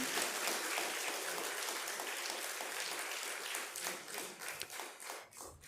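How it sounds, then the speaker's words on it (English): A conference crowd at a technology event in Telangana applauds the chief guest with a dense, steady wash of clapping that thins slightly toward the end. "Can we have a big, big round of applause,"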